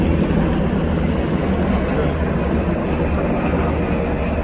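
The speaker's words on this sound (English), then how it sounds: "A couple of helicopters, but I'm next to like an airport." A couple of helicopters flying overhead near an airport, a loud, steady droning rumble filling the whole stretch without break.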